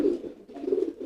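A male pigeon coos in low, throaty, rolling tones, close and clear, in a short run of two or three pulsing phrases without any speech.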